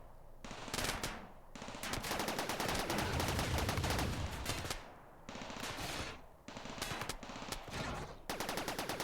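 Rapid bursts of autocannon fire in the video game RimWorld, dense repeating shots in several long volleys separated by short pauses, fairly loud.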